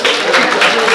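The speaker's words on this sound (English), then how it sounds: "Let's give him a round of applause." Audience at a business speaking event breaks into applause, a dense, loud burst of many hands clapping close by for a brief moment.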